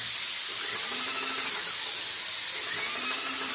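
A VEVOR airless paint sprayer sprays paint onto a house exterior, a continuous hissing spray with faint rhythmic surges as the gun sweeps, heard up close without talk.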